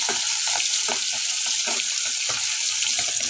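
Coconut fish pieces frying in a pan, a constant loud hissing sizzle with soft repeated clicks and taps of the fish or utensil, no talking.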